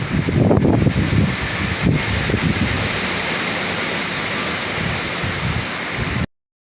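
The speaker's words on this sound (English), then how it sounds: "This is at least 50, 60 mile an hour winds out here." Strong night windstorm in Spring, Texas with gusts around 50 to 60 mph, a loud continuous roaring rush with heavy buffeting against the microphone early on, steady throughout before cutting off abruptly.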